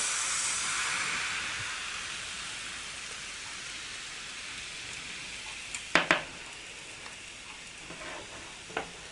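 Steady broadband sizzle of pancake batter frying in a hot pan, continuous and fairly close, with a couple of brief clinks near the end.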